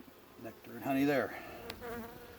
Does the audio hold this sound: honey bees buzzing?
yes